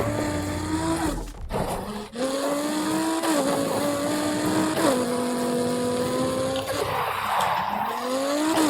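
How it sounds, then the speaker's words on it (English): A race car in the Need for Speed Heat video game screams at high revs, its engine pitch climbing and snapping down with rapid gear shifts, mixed with tire squeal and skidding, loud and continuous. "very quick shifting transmission, rapid shifts"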